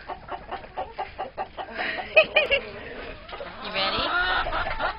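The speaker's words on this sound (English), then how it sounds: "the squawky little chickies" Several chickens cluck and squawk close by in quick, uneven bursts, with a person briefly speaking over them.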